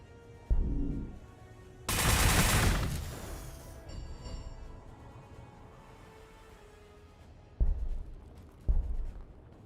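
Ship guns firing in the Warhammer 40K Gladius strategy game, with one loud sustained burst of gunfire followed by two shorter sharp shots later, over low game background sound.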